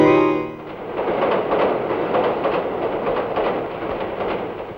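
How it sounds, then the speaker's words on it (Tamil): A train rolls steadily along its rails with a dense, continuous rumble and a faint clickety-clack rhythm, close and loud, following a brief tonal sound at the start. No one speaks. "இந்த ரயில் சத்தத்துல கூட"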